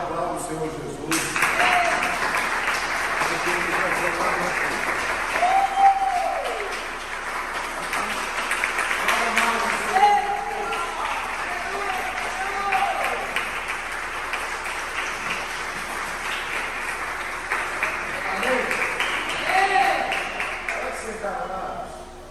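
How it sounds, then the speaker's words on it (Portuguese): A church congregation stands and claps through a long stretch, the applause steady and moderately loud under a voice that keeps speaking and calling out over it. "Coloca de pé, aplauda o Senhor Jesus"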